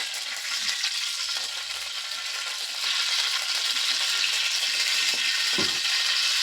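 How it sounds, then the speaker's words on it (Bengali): White cooking oil heats in a hot wok, giving off a loud, continuous sizzle and crackle that grows slightly stronger midway, with no talk over it. "সাদা তেল দিয়ে দিলাম, তেলটাকে ভালো করে গরম করে।"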